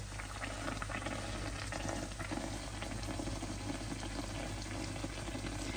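Handesh, soft puffy Sylheti oil cakes, deep-frying in hot oil with a steady bubbling sizzle that fills the whole stretch at an even, close level, with small crackles throughout and no voices.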